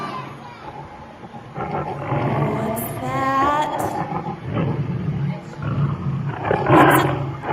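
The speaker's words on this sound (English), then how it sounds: "It's a tiger." At a kindergarten morning assembly, a tiger roars in long, rumbling, rising growls, heard repeatedly at moderate loudness while young children talk and call out over it.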